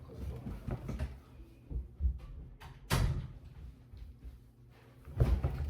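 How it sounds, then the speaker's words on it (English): A door closed indoors, with soft bumps and shuffling before one sharp thud as it shuts, then more light knocks; the sounds are fairly close but quiet. "I'll close the door"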